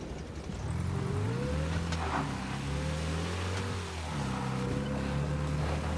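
A Cadillac drives in Mafia: Definitive Edition, its engine a steady droning hum that rises and shifts pitch as it accelerates, close and continuous with faint road noise.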